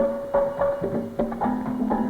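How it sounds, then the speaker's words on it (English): Trinidad steel drums at the start of a three-day carnival play a quick run of faint, ringing, pitched notes in a bouncy rhythm. "That's the sound of the Trinidad steel drums heralding the beginning of the big 3-day carnival."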